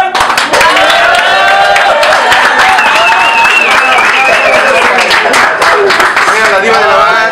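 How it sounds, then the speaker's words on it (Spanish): Audience applause welcomes a guest onto the stage of a Spanish-language entertainment show. The clapping is loud and sustained throughout, with a voice talking over it. "que pase un aplauso para Cuauhtémoc Juan."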